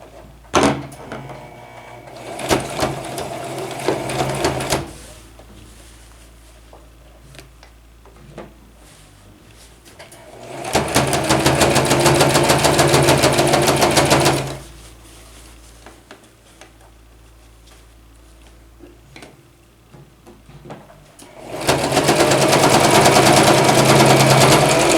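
Sewing machine running in long bursts along a seam of a men's slim fit vest, loud steady whirring stretches separated by quiet pauses, no talking.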